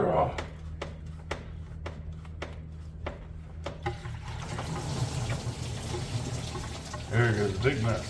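Engine coolant from a 1999-2007 Chevrolet Silverado pouring out of a water pump hose into a catch pan: a sustained close splashing gush with a few sharp clicks at the start and a voice talking over it.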